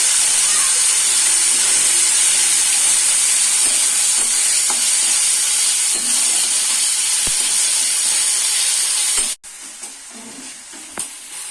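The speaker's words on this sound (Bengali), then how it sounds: "আদা পেঁয়াজ রসুন কাঁচা লঙ্কার পেস্ট আমি দিয়ে দেবো তেলে। একটু ভেজে নেব।" Ginger, onion, garlic and green chilli paste frying in oil for a Bengali mushroom masala, a loud hissing sizzle right up close that holds steady, then drops abruptly to a quieter crackle with faint stirring.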